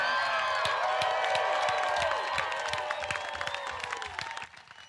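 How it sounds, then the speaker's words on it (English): Wedding guests cheer, whoop and applaud together in a loud burst of clapping and shouts that slowly tapers before cutting off near the end. "let's take a moment to open our hearts and let out some of this energy by giving a loud cheer for the reason we're all here today. Amanda and Tyler."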